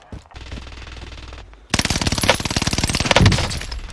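MG42 machine gun in Warzone Pacific firing a long, rapid, loud burst of rounds after a stretch of lower game ambience, close and continuous until the end.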